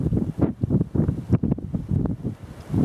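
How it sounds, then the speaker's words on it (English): Wind gusting up a snowy slope and lifting snow with it, a loud, buffeting rush that pounds the microphone in rapid, uneven surges, with no voices. "wind's blowing up the slope"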